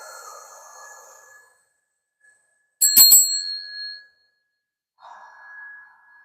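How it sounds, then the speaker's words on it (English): A small hand bell rung to clear the energy of tarot cards gives a single bright, ringing strike that decays over about a second, with soft murmuring before and after. "Where's my bell?"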